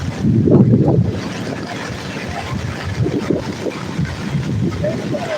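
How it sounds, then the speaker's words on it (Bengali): Steady roaring wind with broad rushing noise of wind-driven monsoon rain on flooded Mumbai streets, loud and continuous throughout with a stronger burst near the start. "হাওয়ার সঙ্গে সঙ্গে বৃষ্টি হচ্ছে"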